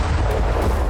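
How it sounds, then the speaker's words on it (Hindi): A deep, rumbling explosion roars loudly for under a second, heavy in the low end, as a bridge in Ukraine is blown up during the war. "आसमान से जोरदार धमाका।"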